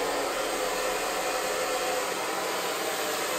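A hair dryer blows continuously with a loud, steady airy roar and high-pitched whine, close by and unchanging throughout.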